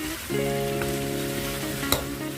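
Catfish stir-fried with fresh chili in a hot pan gives a steady, close sizzle and frying hiss throughout, with a brief sharp clink of a utensil near the end and no talk.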